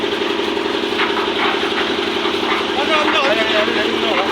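A tractor engine runs at a steady idle on a Punjab farm during paddy seedling work, giving a continuous close rumbling drone while voices talk over it.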